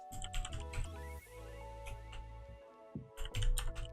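Rapid keystrokes on a computer keyboard, fairly close and clear, typed in short bursts with brief pauses between them while entering code, with no talking.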